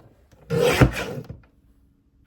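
A paper trimmer cuts card stock for a scrapbook page kit in a single close, rasping slice lasting under a second, framed by quiet handling noises.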